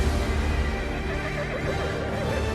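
Horse neighing in a scene from the film Red Sonja, a loud whinny set against a dense, continuous soundtrack of music and effects.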